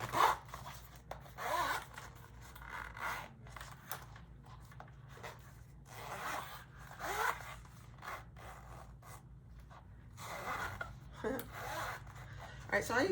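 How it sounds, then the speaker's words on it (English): A zipper is pulled along a vinyl pouch case in a series of short, raspy runs, close and fairly quiet, with soft handling rustle between them. "let's zip it up and see how it looks"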